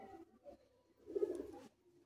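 Madras pigeons cooing in a cage, a faint soft coo near the middle over quiet murmuring background.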